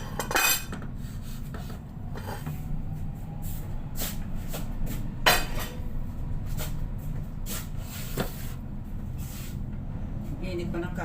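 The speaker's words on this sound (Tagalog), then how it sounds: "Prito na ako ng egg ngayon." An egg fries in a pan under a steady sizzle, while cutlery and dishes clink and clatter sporadically up close, with a few sharp metallic knocks.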